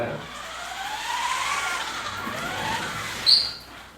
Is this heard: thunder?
no